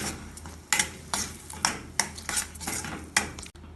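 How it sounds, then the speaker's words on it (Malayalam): A spoon sautés Goan paneer vindaloo masala in a pan, scraping steadily in a run of sharp, close strokes over a faint frying hiss, with no voices. "ഇതിന് 1 മിനിറ്റ് ഇളക്കി വഴറ്റാം."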